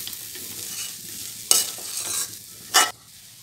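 Horse gram stirred with sambar powder in a pan over medium-low heat, a soft steady sizzle with scraping stirs and two sharper spatula scrapes standing out near the end.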